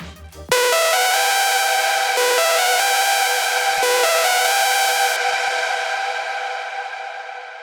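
Bright, buzzy hardstyle top lead synth layer made in Vital, holding a loud sustained melodic line with a few note changes after a short opening burst, then slowly fading out, heard alone.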